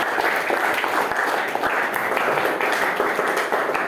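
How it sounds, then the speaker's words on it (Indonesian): A classroom of students applauds the last group, a dense, steady burst of many hands clapping close by for several seconds. "kita beri tepuk tangan kelompok terakhir ya"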